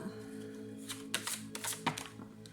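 Tarot cards being shuffled and drawn, a series of soft papery flicks and slaps close by, several quick brushes of card on card over a faint steady background hum.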